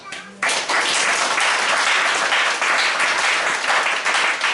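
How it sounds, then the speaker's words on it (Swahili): Church congregation applauding during a Sunday preaching service, a dense, loud burst of clapping that starts abruptly and carries on steadily, with some voices mixed in. "They have said we clap for him."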